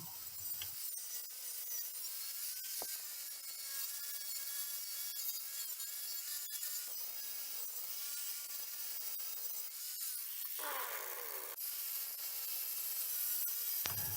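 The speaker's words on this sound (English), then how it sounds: "The wire wheel will do a good job of removing all the paint" A steady abrasive grinding and scraping runs throughout, a spinning wire wheel stripping paint from metal, with a brief pitch sweep near the end.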